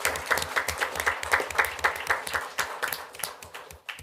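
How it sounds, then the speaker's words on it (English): Applause from a small audience at a city council meeting after a housing program report: a few seconds of scattered, fairly close hand clapping that thins out toward the end. "Let's give everybody a round of applause."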